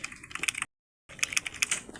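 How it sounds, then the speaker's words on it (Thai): Computer keyboard typing during a game stream: bursts of quick, crisp key clicks, close and fairly loud, broken by a short complete silence in the middle before the clatter resumes. "แบบนี้มันเป็นเสียงคีย์บอร์ดด้วยหรือเปล่า"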